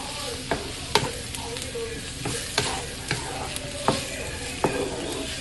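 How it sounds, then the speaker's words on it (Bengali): Mola fish dipped in gram flour batter frying in hot oil, a steady close sizzle with periodic stirring clinks and scrapes roughly every second. "আমি এখানে একটু মোরলা মাছগুলোকে ভেজে নিচ্ছি বেসনের মধ্যে ডুবিয়ে নিয়েছি প্রথমে"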